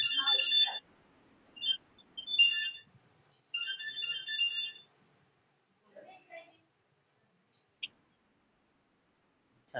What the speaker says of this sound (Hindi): किसका फोन बज रहा है रे?